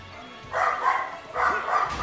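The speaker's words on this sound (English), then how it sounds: "Good lord, those dogs need to shut up." Two bursts of dogs barking outdoors, a bit distant, each a quick cluster of yaps and woofs with a short pause between them, and faint background noise.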